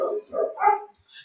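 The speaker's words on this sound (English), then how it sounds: "please don't mind the dog, please just ignore the dog" A dog barks and yips indoors in a few short, close bursts with brief gaps between them during an online lesson.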